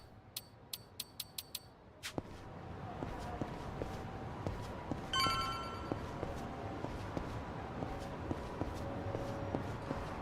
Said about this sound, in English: Do I have a cell phone or something in this game?